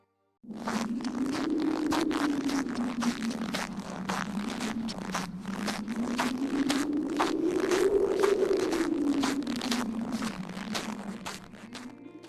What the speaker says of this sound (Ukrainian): це хтось іде по свіжому снігу